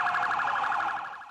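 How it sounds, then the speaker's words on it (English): An emergency siren wails in New York City, a loud, fast warbling tone that pulses steadily and fades slightly toward the end. "New York is always noisy, but these days it's wailing. A city of sirens"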